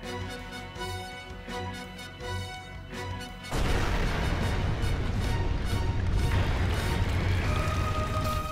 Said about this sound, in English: There's the big missile.